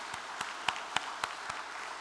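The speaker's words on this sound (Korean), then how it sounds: "우리에게 아낌없는 정성으로 큰 축복과 사랑을 주시는 참 부모님께 감사의 큰 박수를 올려주시기 바랍니다" Church congregation giving applause of thanks, sparse slow claps at an even beat, about six distinct hand claps over a soft background hiss, fairly distant.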